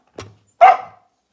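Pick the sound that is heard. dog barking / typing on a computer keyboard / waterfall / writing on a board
dog barking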